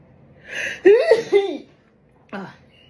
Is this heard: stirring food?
no